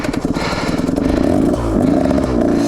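A 2021 KTM 125 XC motorcycle engine with a carburetor problem runs loud and close, sputtering in a rough, uneven pulse that smooths into a buzzing rev partway through.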